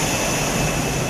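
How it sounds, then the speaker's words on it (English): A stealth jet aircraft roars past in a steady, loud, broadband engine rush that stays level and continuous across the whole moment. "The Americans had built an invisible plane."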